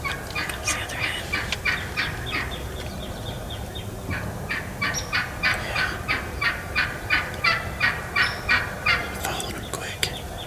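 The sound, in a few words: wild turkeys gobbling and calling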